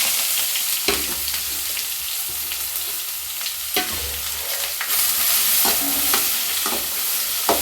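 A steady sizzle of onions frying in hot oil, with occasional scraping stirs and clinks of a utensil against the pan.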